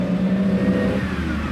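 A 1960s race-bred V12 car engine revs and rises in pitch as the car pulls away, loud and steady with no voices over it.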